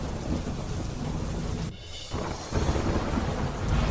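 Heavy monsoon rain pours down with thunder in Gujarat, a dense, loud roar of falling water broken by a brief dip before the downpour surges back.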